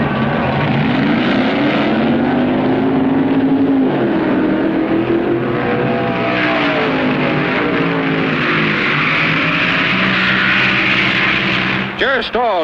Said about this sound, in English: Jerry Stahl in the white Plymouth, York, Pennsylvania. Bill Jenkins, Chevy 2, Berwyn, Pennsylvania.